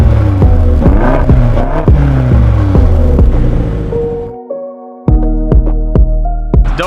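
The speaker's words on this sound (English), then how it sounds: "see if the X5M does some donuts" BMW X5M SUV with Dinan tuning spinning donuts, a loud, steady engine drone with rhythmic revving pulses, a brief dip near the end, then hard revs returning.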